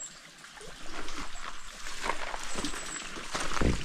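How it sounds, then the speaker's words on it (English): Water drips and trickles at a seep beside a hiking trail, a steady close wash of splashing with scattered clicks and rustles of movement. "Another nice little drip spot."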